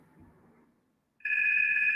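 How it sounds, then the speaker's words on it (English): A phone begins ringing abruptly after a brief quiet pause, a steady, bright electronic tone that sounds close by and fairly loud, with faint low murmur before it starts. "Oh, sorry. That's my phone."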